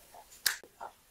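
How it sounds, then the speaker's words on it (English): One sharp finger snap cracks out clearly in a quiet indoor room, a single crisp click followed by softer faint ticks. "I'm going to snap my fingers and get some help."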